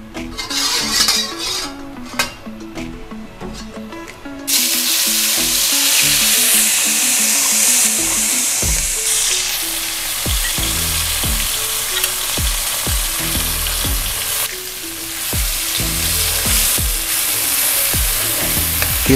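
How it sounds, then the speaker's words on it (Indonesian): Spice paste sautéing in hot cooking oil in a pan for pindang patin, a loud, steady sizzle and crackle that holds through the whole stretch, with occasional light stirring and clinks of a utensil against the pan. "Kita tumis hingga wangi."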